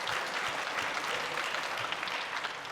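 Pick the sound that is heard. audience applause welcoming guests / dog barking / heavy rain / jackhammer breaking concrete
audience applause welcoming guests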